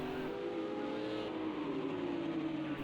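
Audi and Honda NSX GT3 race cars in Project CARS 2 on the Texas road course, with a steady engine drone and shifting revs from cars battling closely on track, with no talk over it.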